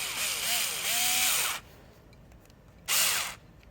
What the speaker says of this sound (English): I hold the standoff and use a automatic screwdriver to tighten it